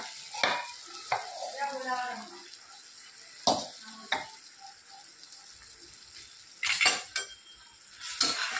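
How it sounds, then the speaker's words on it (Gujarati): A spoon scrapes and clanks in a pan as dal and rice are stirred together, with soft wet mixing sounds between sharp metallic knocks at irregular intervals, close by and moderately loud. "સરસ દાળ અને ભાત મિક્સ કરી દઈએ."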